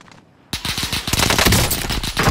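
Machine gun fire in a combat video game, a sudden loud burst of rapid shots after a brief quiet start, continuing densely to the end.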